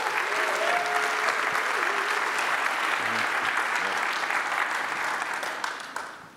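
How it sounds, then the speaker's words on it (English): A conference audience applauds after a tech talk, a dense, sustained burst of clapping that fills the room evenly before tapering off at the end, with a faint voice briefly heard beneath it. "Give a round of applause."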